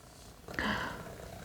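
A pet cat purrs close by, starting partway through with a short louder rise, then settling into a steady low rumble, with no talking.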